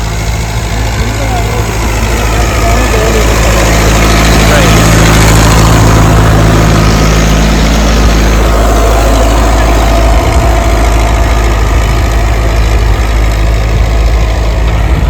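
A tractor engine idles loudly and steadily up close in a village on the India–Pakistan border, a constant low throb running throughout while people talk over it.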